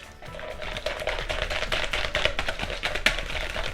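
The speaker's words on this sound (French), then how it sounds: "Vous voyez, on peut bien le mélanger comme ça." Softened butter, microwaved until creamy but not melted, mixed in a bowl for almond cream, a continuous close scraping and clicking of utensil against bowl with a steady rhythm.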